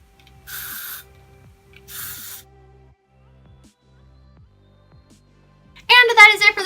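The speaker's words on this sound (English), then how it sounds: "I'm just gonna go in with some hairspray just to spray it." Hairspray sprayed onto a boho ponytail gives two short, close hissing bursts separated by a quiet pause, then a voice starts talking.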